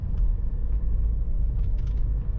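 A car driving on a city road during a driving lesson, a steady low interior rumble of engine and tyres, close and continuous, with faint higher noises and no speech.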